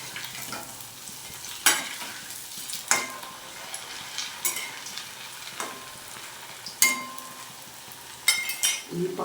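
Food frying in a pan until reddish-brown gives a steady sizzle, with sharp clinks of utensil against pan scattered throughout as pieces are lifted out onto a dish.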